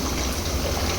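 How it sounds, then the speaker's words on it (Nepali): Water poured into a pot of cooking potatoes for a Nepali ridge gourd and cauliflower curry, a short steady splashing gush close by with no talk. "टक्क पानी हाल्नु अलिअलि सुप पार्नु भयो"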